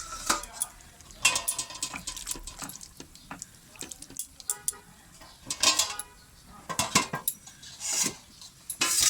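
A utensil stirs a pot of jackfruit, potato and tomato curry in irregular scrapes and metallic clanks, close and fairly loud, with short pauses between strokes.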